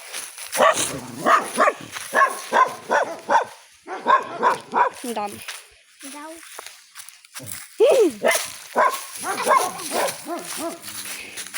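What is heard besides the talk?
dogs barking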